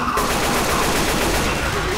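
Rapid, continuous gunfire in Left 4 Dead 2 fills the whole moment, a loud dense rattle of automatic shots with a faint voice barely audible beneath.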